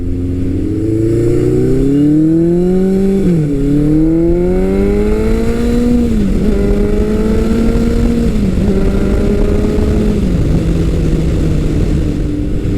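A vintage Suzuki GS motorcycle engine with a 4-into-1 exhaust revs loudly and close by, its deep bellowing exhaust note rising and falling through several pulls, with no talking.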